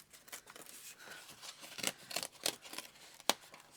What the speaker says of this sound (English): I'm going to rip down this way